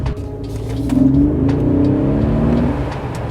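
A 2025 Mercedes G580 EQ, the electric G-Wagon, accelerates hard with a steady, close motor whine that climbs in pitch over a low road rumble, continuous and with no one talking.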